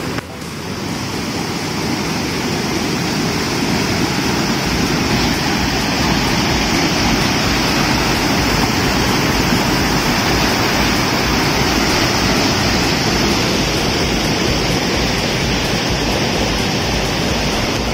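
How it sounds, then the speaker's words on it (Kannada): Water pours down at a waterfall, a loud, close, continuous rushing roar that stays steady and alone throughout. "ಅಲ್ಲಿಂದ ನೀರು ಹರ್ಕೊಂಡು ಬಂದು ಫುಲ್ ಅಲ್ಲಿಂದ ನೀರು ಹರ್ಕೊಂಡು ಬಂದು"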